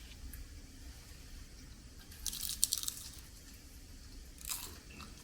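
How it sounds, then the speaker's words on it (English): Someone bites into a homemade vegetable spring roll dipped in sweet chili sauce, giving a couple of close, sharp crunches amid soft chewing, with no talk. "these spring rolls have that perfect crunch on the outside"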